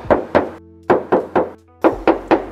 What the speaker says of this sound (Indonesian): Kita tes ketok dulu ya.